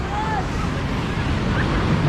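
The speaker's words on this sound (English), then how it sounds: "you got the waterfall here" A waterfall at Lagoon amusement park in Farmington, Utah rushes as a constant, fairly loud broadband wash of falling water, steady throughout with no talking.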